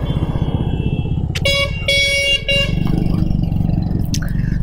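Yamaha Aerox scooter with a radiator-cooled engine riding on a highway: a steady close engine and wind drone runs throughout, broken in the middle by a couple of loud honking horn blasts.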